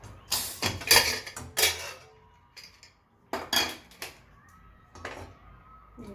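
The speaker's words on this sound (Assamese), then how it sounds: "চিটিটো যোৱাৰ পিছত কুকাৰটো খুলি চাওঁ কেনেকুৱা হ'ল।" A pressure cooker holding baby khichdi is opened after its whistle has gone, with loud metallic clanks and rattles of the lid and pots in a few bursts, separated by quiet gaps and a faint hum.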